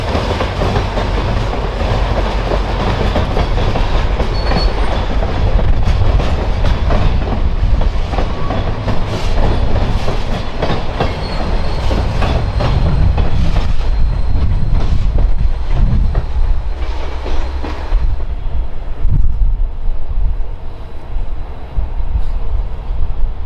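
A long Canadian National freight train rolls past close by on a slow backwoods line, loud and continuous, with clattering wheels over the rails and occasional squeals.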